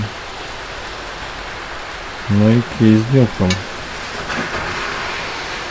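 Heavy rain pours outdoors during a storm, a steady broadband hiss lasting the whole clip, with someone speaking briefly in the middle.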